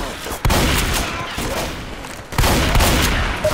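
Rapid gunfire in the zombie shooter game Left 4 Dead 2, loud dense bursts with heavy low-end boom, one volley at the start and a second near the end.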